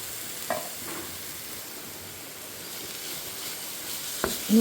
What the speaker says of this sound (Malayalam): ഇനി ഇതിലേക്ക് നമ്മൾ ഒതുക്കി വെച്ചിരിക്കുന്ന അരപ്പ് ചേർത്ത് കൊടുക്കുവാണ്.